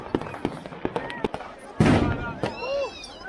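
New Year's fireworks over Berlin: a run of sharp nearby pops and crackles builds to one loud, booming burst, then rising whistles trail off, with faint voices in the background.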